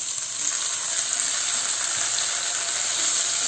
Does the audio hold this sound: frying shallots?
yes